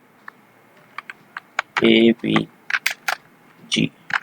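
A computer keyboard is tapped a few times while entering an SQL average command, with crisp, close keystrokes scattered among a man's speech.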